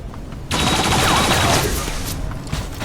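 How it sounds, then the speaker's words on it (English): Turrets firing in the XCOM video game, a sudden burst of rapid gunfire that erupts and holds as a dense loud rattle for a couple of seconds before tapering slightly. "And the turrets continue to fire on the mech."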